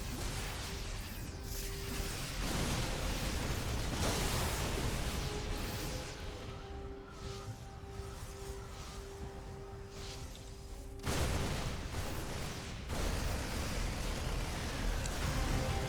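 Rumbling, booming cannon fire in a StarCraft 2 battle, dense and continuous with crashing bursts and a steady tonal drone underneath, loud throughout.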